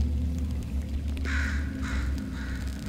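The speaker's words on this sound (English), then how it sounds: "How the hell did a bird get down here?" A bird caws twice, then once more faintly, in the Portal 2 video game, loud harsh calls over a low steady rumble, with no speech.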